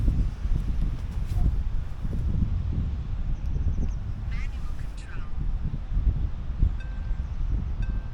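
Breezy outdoor wind buffets the microphone in steady low rumbling gusts for several seconds while a small HoverAir X1 drone is flown nearby, with faint rustling and occasional light ticks.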